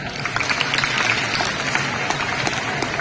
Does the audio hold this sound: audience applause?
yes